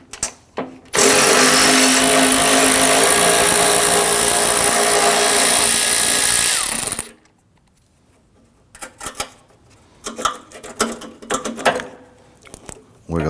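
A power tool loosening 8 mm bolts on the bumper beam of a 2010-2019 Ford Taurus runs loud and continuous for about six seconds, then winds down, followed by quieter clanks and handling noises.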